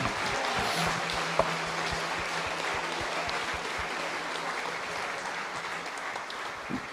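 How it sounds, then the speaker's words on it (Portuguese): A church congregation applauds together, a steady, moderately distant patter of many hands clapping that continues evenly for several seconds. "Aplauda Deus porque Ele faz isso."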